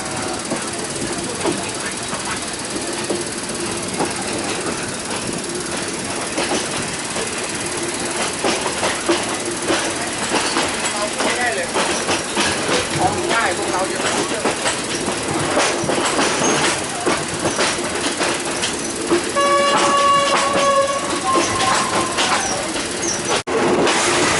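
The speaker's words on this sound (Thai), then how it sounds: "ด้วยรถไฟชั้นสามครับผม" A third-class train on the Southern Line out of Thonburi station rumbles and clatters steadily throughout, with loud rhythmic rattling, a short tonal squeal near the end, and voices talking over it.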